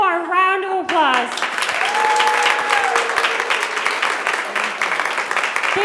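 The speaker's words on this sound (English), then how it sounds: "one more round of applause" A conference crowd claps in a full, steady round of applause, bright and close, with a voice speaking over the start and brief cheers mixed in.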